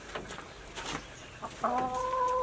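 Six laying hens in a coop built from old scrap materials cluck in short, scattered calls, then one holds a steady, drawn-out tone near the end, fairly close and alone without talk.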